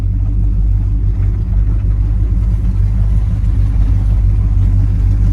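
A 1968 Pontiac GTO's engine rumbles loud and close in a steady, deep throb that holds constant throughout with no voices over it.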